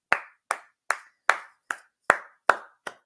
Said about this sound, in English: I mean a golf clap